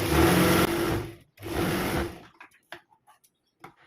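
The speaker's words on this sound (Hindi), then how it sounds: "यहाँ पे सिलाई लगाएंगे ऐसे" An electric sewing machine stitches kurti fabric in two loud, close, steady whirring runs split by a brief pause, followed by light handling clicks and quiet.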